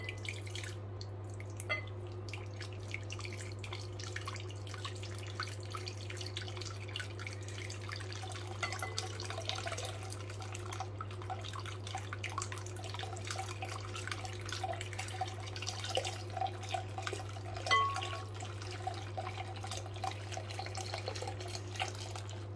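A milk, butter and honey mixture is added gradually to two egg yolks in a bowl for soft gingerbread, making faint, intermittent trickles and drips over a steady low background hum.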